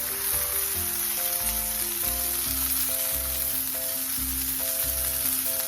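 Chicken breast halves sizzle in a hot skillet, a close, constant crackling fry under steady background music, with no talking.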